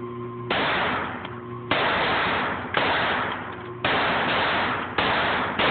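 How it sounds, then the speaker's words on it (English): A Walther P22 pistol fires five loud shots at uneven intervals outdoors, each sharp crack trailing into a short decay. No one speaks. "Go ahead. We're shooting."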